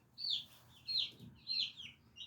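Family chickens in a backyard cage, a few soft, close clucks coming in three or four evenly spaced bursts with quiet pauses between them, no voices.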